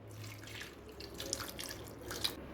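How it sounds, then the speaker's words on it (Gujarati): A bowlful of water trickles faintly into a pressure cooker holding bitter gourds, a soft steady pour with a couple of tiny drips near the end. "હવે આપણે તેની અંદર 1 વાટકી જેટલું પાણી ઉમેરીશું।"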